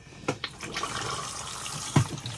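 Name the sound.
Thetford toilet fresh water flush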